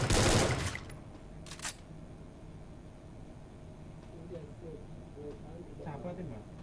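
Mobile shooter game gunfire opens with a loud burst of rapid shots, then a brief second burst, followed by quieter background game sounds with people talking faintly.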